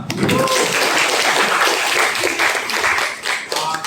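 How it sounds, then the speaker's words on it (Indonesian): Classroom applause from students during a teaching practice lesson in Indonesia, a dense burst of clapping from a group that fills the room for several seconds with some chatter mixed in. "Oke, tepuk tangan dong."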